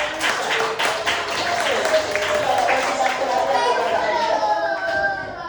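Classroom applause for a student in an Islamic education lesson, dense clapping from a group of children mixed with young voices and chatter, steady and close throughout.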